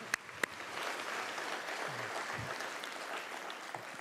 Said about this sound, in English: So could we have a round of applause for our faculty?